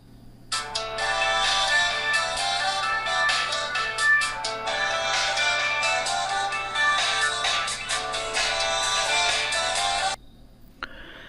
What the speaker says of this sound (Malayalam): Your device will ring out full volume four 5 minutes.